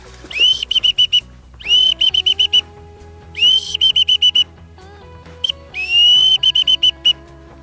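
A person whistles a high, warbling imitation of ducks in flight in four repeated bursts of rapid fluttering notes, separated by brief pauses, loud and close.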